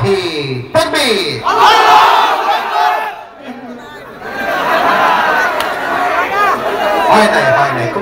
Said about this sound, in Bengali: বিবাহিত ভাইরা তাকবীর দিবে।